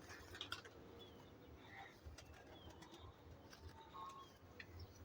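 Pigeon cooing softly in a loft, low repeated coos with occasional wing flaps over a steady background hum.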